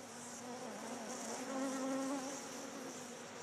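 Bees buzzing in a steady, continuous drone with a rising and falling hum, fairly close and alone without voices.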